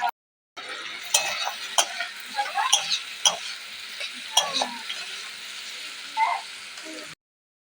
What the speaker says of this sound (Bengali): পেঁয়াজটা ভাজা হয়ে গেছে আমি এরপর গাজরটা ভেজে নেব